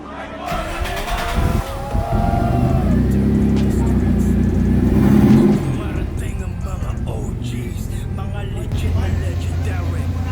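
A Datsun 280Z Fairlady Z engine rumbles loudly and rises in pitch as it accelerates on a road test, then settles into a steady low drone, with voices and background noise mixed in.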